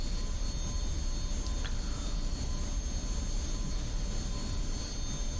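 An F-86F Sabre jet engine drones steadily in a flight simulator game: a constant, even roar with a faint whine and no change in level. No one speaks.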